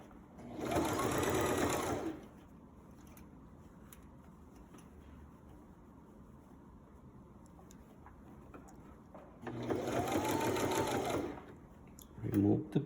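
A sewing machine stitches fabric in two loud, close bursts of rapid needle chatter, separated by a long quiet stretch of faint handling sounds, with a brief restart at the very end.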